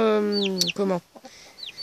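A young rooster chick lets out a strained, crowing-like call close by, followed by shorter clucks and chirps, with faint high peeps from other birds.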